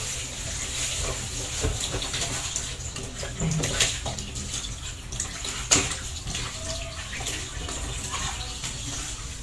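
Water splashes and runs steadily as freshly bought market goods are washed, with soft clatter of items in a basin throughout.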